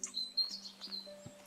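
Short bird chirps from the game Botany Manor, several quick high tweets with a faint tonal background hum, no talking.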